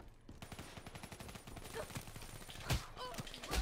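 Rapid, continuous submachine gun fire in the shooter game Call of Duty: Black Ops 3, a dense stream of close, sharp shots that rattle on for several seconds without a break.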